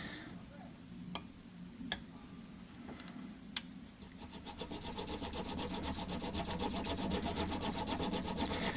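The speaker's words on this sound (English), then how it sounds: "we're doing it with clear slot so that the nut files don't stick in the last bit." Nut files rasp back and forth in the nut slots of a Maverick F4 guitar during a setup, beginning with a few sharp taps and then settling into a steady, close, rhythmic filing.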